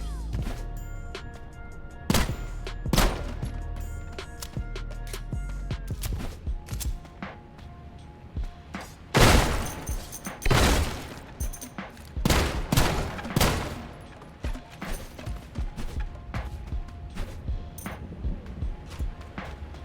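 Video game gunfire crackles in scattered bursts, with loud close shots and rapid volleys between quieter pops, set against a steady game soundtrack.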